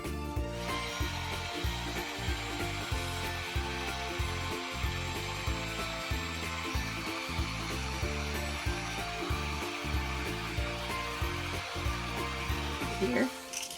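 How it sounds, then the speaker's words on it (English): A heat gun blows a steady, loud airy roar as it heats wood-burning ink on a wooden tray, with a regular faint pulsing underneath running almost fourteen seconds before cutting off. "we're going to heat up the ink using a heat gun"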